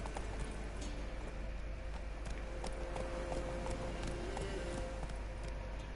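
Hooves of the horse Roach pound steadily in a galloping rhythm within a video game on PS4, a continuous clip-clop near and fairly loud over a constant background bed.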